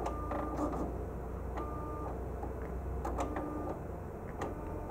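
Printer built into a Biodex Atomlab 950 medical spectrometer running a calibration or cleaning cycle, a steady mechanical whir with faint motor tones and a few soft clicks and chirps, nearby and continuous with no talking.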